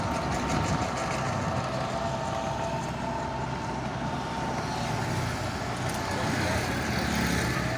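Road vehicles pass at a distance beside an open field, producing a steady low engine rumble and traffic drone that persists throughout without clear individual pass-bys.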